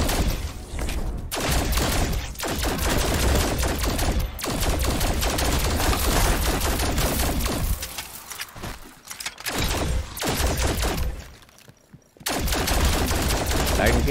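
Rapid bursts of automatic gunfire from Call of Duty Black Ops Cold War Zombies, loud and dense, with a few short pauses between strings of shots.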